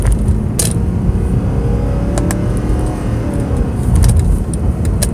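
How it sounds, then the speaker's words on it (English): A Mercedes C63 AMG engine drones steadily up close, with a few sharp crackles and pops from the exhaust breaking through the rumble. "I can hear the pops in the exhaust"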